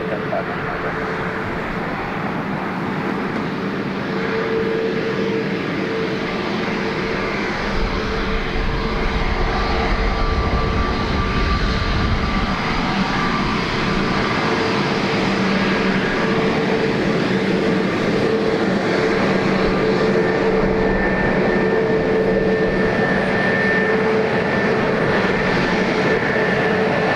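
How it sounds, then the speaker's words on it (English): A Ryanair jet from Gatwick lands at Dublin Airport, its engine roar a steady, loud broadband rumble that carries unbroken for the whole stretch, with a faint voice now and then beneath it. "Fairly quick landing after. That's Ryanair from Gatwick."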